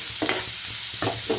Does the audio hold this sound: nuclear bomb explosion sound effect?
no